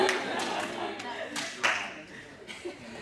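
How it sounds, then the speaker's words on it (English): Scattered hand clapping from a small audience at a Toastmasters club meeting rises and fades in short bursts, with light chuckles and some talk mixed in. "they get a massive hand clap"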